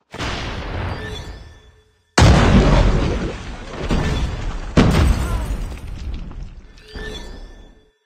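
Explosions boom in a shooter video game, a frag grenade among them: a series of loud, heavy blasts with rumbling decays that overlap one another, including one abrupt cut and a gap of near silence.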